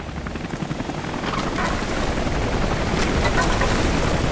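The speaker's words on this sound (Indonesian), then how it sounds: "Suara helikopter." A helicopter in the video game Rise of the Tomb Raider, its rotor thumping in a steady, dense drone that grows louder and closer over a few seconds.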